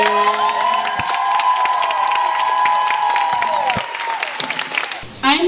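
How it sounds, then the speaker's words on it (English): A crowd applauds and cheers with whoops after a group dance piece by Kensington Urban at a City Hall showcase, dense steady clapping filling the clip with shouts mixed in, tapering near the end. "Huge round of applause for the group piece. Clap up loud for Kensington"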